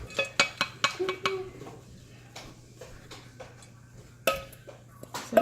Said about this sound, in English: with a wooden spoon, we're going to mix it in